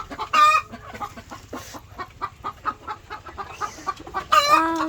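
A hen clucks repeatedly in short, uneven bursts, close by, with a couple of louder squawking calls at the start and end.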